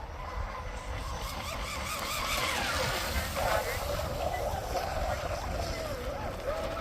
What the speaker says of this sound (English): I've got the prop blast on it to where it's shooting up in the air